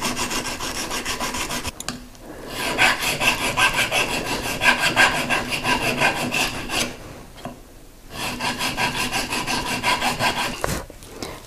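Rhythmic abrasive rasping as a cone abrasive cleans up a solder seam on a jewelry box ring, close and steady in repeated strokes with brief pauses between passes.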